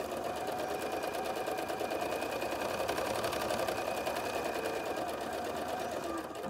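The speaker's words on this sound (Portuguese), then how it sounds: "Sempre olhando onde bate a agulha, não a ponta do pezinho, ó. Ó, vai girando." A sewing machine runs steadily while stitching a curved seam, its needle ticking rapidly in a constant close, even rhythm, with faint background noise underneath.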